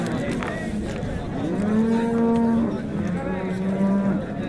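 A cow lows at a busy livestock market, a long rising and falling moo close by and fairly loud, with market crowd murmur and faint voices behind it.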